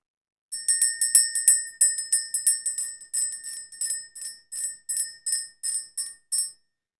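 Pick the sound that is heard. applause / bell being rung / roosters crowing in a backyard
bell being rung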